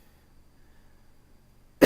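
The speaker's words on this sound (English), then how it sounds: "You hear me coughing a lot today." A single short cough from someone who is a little under the weather bursts out at the very end, close and fairly loud after nearly two seconds of near silence.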